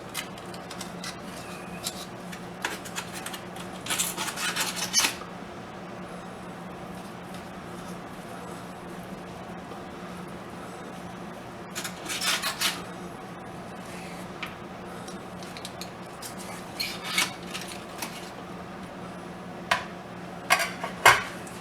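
Knife strokes through a cooked gyros meat loaf on a cutting board, a few short scraping and tapping bursts of cutlery against the board spread across a quiet kitchen background.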